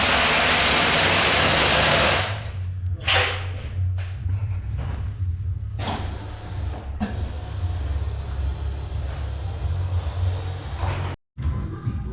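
Ratchet turning bolts while lowering springs are fitted on a BMW E65 730d, heard as loud close clicking and mechanical rattles over a steady low rumble, with a brief drop in sound near the end.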